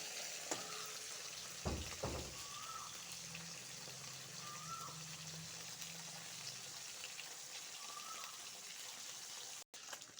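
Pieces of bata fish fry lightly in oil, giving a faint, steady sizzle with a few soft clinks of a utensil and no talk.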